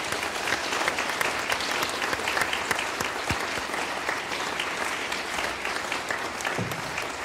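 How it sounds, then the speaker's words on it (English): Sustained audience applause at a university choir concert, dense steady clapping throughout, loud and near, with no speech over it. "please give them a round of applause"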